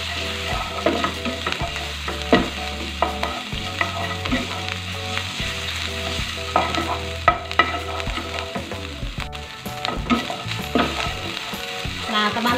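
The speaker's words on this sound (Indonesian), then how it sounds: "masukkan bawang putih, lalu juga jahe, Tumis bumbu sampai matang dan tercium aroma harum." Garlic and ginger stir-fry in hot oil, giving a steady, close sizzle with frequent scraping stirs, set against soft background music and no talk.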